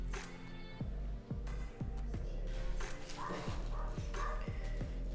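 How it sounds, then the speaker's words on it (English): A dog barks repeatedly in the background of an indoor room, a run of short, evenly spaced woofs under a steady low hum, moderately loud but somewhat distant. "sorry about my dog in the background"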